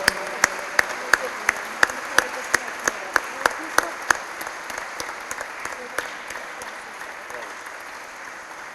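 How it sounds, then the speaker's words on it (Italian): Audience applause at an award ceremony, the Tuscan American Award (Premio Toscana USA) 2023, a steady, sustained wash of many hands clapping in a hall with sharp individual claps standing out, gradually thinning toward the end. "Un grande applauso a una grande donna."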